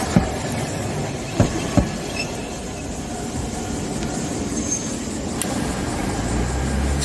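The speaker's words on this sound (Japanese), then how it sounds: "501号、来年70歳になる一番古い電車です。" Kagoshima City Tram car No. 501, the oldest car on the line at nearly seventy years old, rolls past near Sasanuki stop with a steady rumbling drone and a few sharp wheel clicks, close and continuous.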